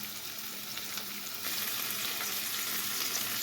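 Tomatoes sizzle and fry in a hot pan with a steady, close hiss of crackling oil that grows a little louder partway through, with no talking.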